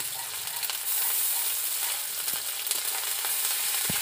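Onion paste and ginger paste frying in hot oil in a pan, a continuous close sizzle with occasional scrapes and clicks of a stirring spoon, no voices.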